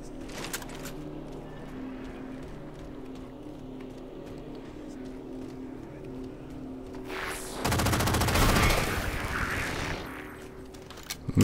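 Gunfire in the video game Halo 4 crackles in quick bursts over a steady engine-like hum, with a dense, louder volley of shots near the end.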